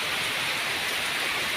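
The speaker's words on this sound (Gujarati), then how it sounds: "ગાઈસ ફૂલ વરસાદ પડે છે" Heavy rain pours steadily over a cotton field, a dense, even hiss of drops close around with no breaks and no voices.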